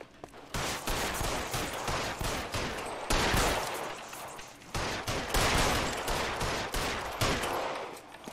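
Gunfire in the video game L.A. Noire, dense bursts of rapid shots in several loud volleys separated by short pauses.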